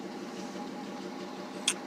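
1997 Dodge Dakota engine idles with a faint, steady low hum, even and unchanging, and a brief small click near the end.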